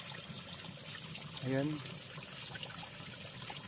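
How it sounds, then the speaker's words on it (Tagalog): Spring water flowing straight out of the ground on a farm lot beside a river, a faint, continuous trickling rush beneath a brief spoken word. "yung mismong tubig nandyan sa nanggagaling sa lupa maagos po siya"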